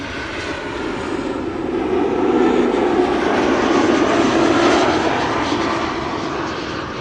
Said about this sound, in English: KLM Embraer 190 SkyTeam livery just arriving